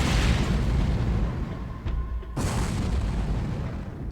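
A Poltergeist missile explodes in the space game X3: Terran Conflict as a loud rumbling boom that fades, then a second sharp blast follows and rolls off, with no talk.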